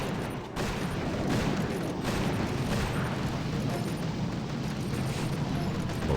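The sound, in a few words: artillery explosions in a video game battle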